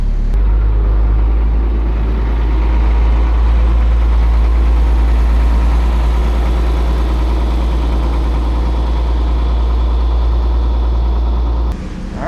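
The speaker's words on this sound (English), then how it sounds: "the truck is running. We're making air, warming her up" An antique fuel wagon truck's engine idles while warming up and building air pressure, a loud, steady low rumble with constant vibration that cuts off abruptly near the end.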